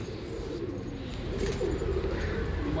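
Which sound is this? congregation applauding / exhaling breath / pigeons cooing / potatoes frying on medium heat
pigeons cooing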